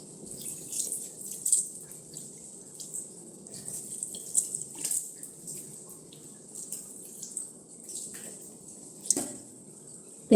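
A bathroom tap runs steadily while someone washes their face, low continuous water flow broken by intermittent splashes and sharp drips.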